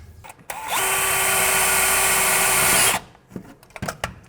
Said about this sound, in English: let me grab a drill and a bit